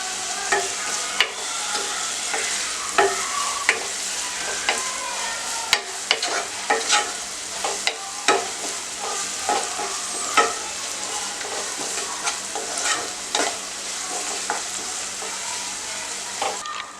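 Onions with green chillies fry in a pan for a pineapple dish, giving a steady close sizzle broken by regular stirring scrapes and clinks.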